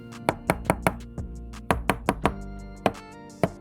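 Tapping and knocking on the hollow ABS plastic shell of a Redragon FAYE K685 PRO full-size wireless mechanical keyboard produces about a dozen sharp, close knocks in irregular clusters, each with a brief hollow resonance.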